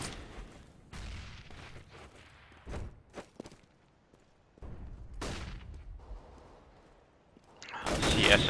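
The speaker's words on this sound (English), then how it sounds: "Guardian shooting SMN right through the door" Rapid bursts of gunfire from a professional Counter-Strike match on de_dust2, a shot fired through a door, with sharp cracks and booming volleys spread across the stretch, loudest near the end.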